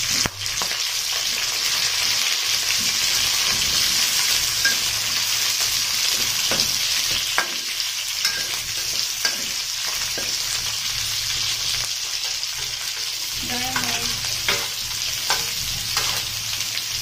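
Garlic, onions and string beans sizzle and crackle in a hot pan, with steady frying and occasional stirring scrapes close by and no talking.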